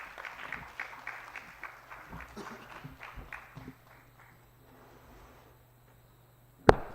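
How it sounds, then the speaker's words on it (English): Applause for a symposium moderator, Dr. Chi: a short burst of scattered clapping that thins out and fades to near silence, followed by a sharp single knock near the end. "Round of applause to Dr. Chi."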